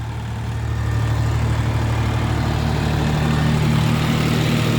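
A John Deere 5305 tractor with about 3100 hours runs at a steady idle, a loud, even diesel drone with a low throbbing hum that holds constant throughout, close by and with no talk.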